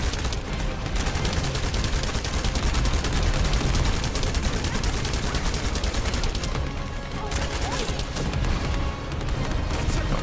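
Rapid gunfire from a looter-shooter video game boss fight, dense bursts of shots and booms running almost continuously at close range, with brief dips in intensity.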